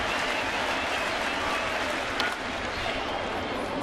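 Baseball stadium crowd in New York cheering and applauding as fans hope for a strikeout, a steady loud roar of clapping and voices throughout.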